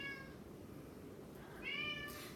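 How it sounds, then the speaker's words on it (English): A domestic cat meows twice, two drawn-out harmonic cries with a pause between, close by over a steady low room hum in an indoor lab setting. "my cat is going crazy"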